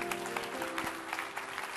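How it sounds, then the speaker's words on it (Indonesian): An audience applauds at a Christian business seminar on husband and wife roles, a steady patter of clapping throughout, moderately loud. "Sekali lagi beri tepuk tangan buat Pak Adrian."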